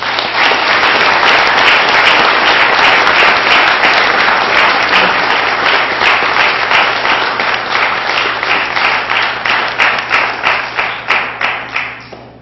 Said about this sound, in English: you can give him thunderous applause for his effort